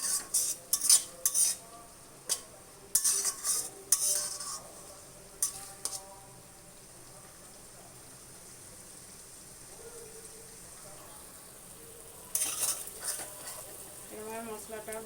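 Spice masala for chicken curry is stirred and fried in a pan, with sharp scraping strokes of a spatula and clinks of metal against the pot over a soft sizzle, and a quieter stretch of gentle frying midway.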